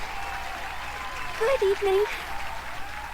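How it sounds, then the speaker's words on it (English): A crowd applauds in the Detective Pikachu video game, a soft, steady wash of clapping heard under a voice giving a brief greeting. "Clap harder!"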